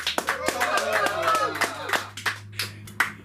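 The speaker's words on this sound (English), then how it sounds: "give me some crazy applause" Sharp, scattered hand claps from an audience at a comedy open mic ring out while someone talks, becoming sparser toward the end.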